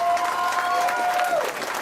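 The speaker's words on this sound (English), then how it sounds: "Give the Captain Morgan girls a round of applause," A crowd at a Baltimore storytellers concert applauds the Captain Morgan girls: dense, steady clapping close by for about two seconds, with a thin sustained whistle riding over it before the noise tapers slightly.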